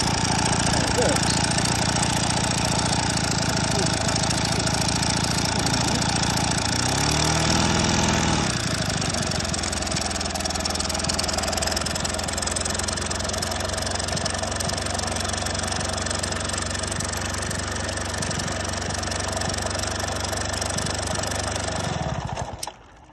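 A Raleigh RM6 moped engine runs at a steady idle close by, a continuous buzzing putter that briefly rises and falls in pitch before settling and cutting off at the end.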